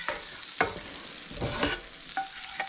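Two cloves of garlic frying in a pan, a continuous bright sizzle broken by several stirring scrapes, close and fairly loud, with no talking.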